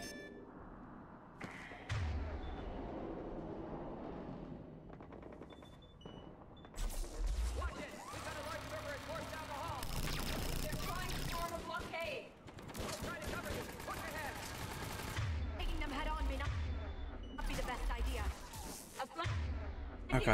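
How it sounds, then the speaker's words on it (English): Turret gunfire in the video game Mass Effect 3, bursts of rapid shots and thuds coming in waves, with someone talking over much of the action. "Those turrets will chew us to pieces."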